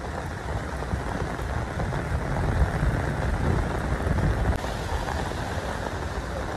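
Steady heavy rain pours down during an election day in Benin City, a dense, constant hiss with no voices, swelling slightly midway and holding at an even, close level throughout.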